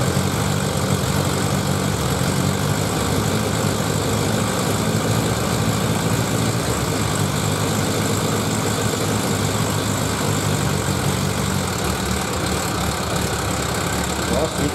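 A Suzuki GSX1100G motorcycle engine runs steadily at idle with no choke, a continuous loud mechanical rumble and hiss that stays even throughout.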